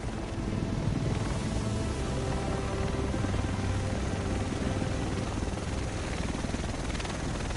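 Helicopter in The Division arriving, a steady loud rotor drone with low thumping filling the whole stretch, no voices over it.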